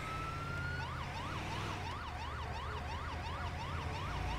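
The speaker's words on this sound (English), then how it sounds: "I just left my siren on the whole time by accident." A wailing video-game ambulance siren sweeps steadily up and down over a low engine hum, continuous and fairly close; an FDNY EMS ambulance in GTA 5 responding to emergency calls.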